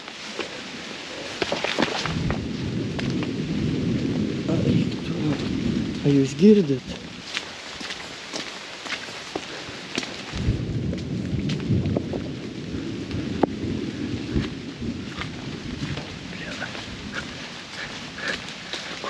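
Thunderstorm in the jungle, with rain pouring steadily and low rumbles of thunder rolling through, while people talk close by.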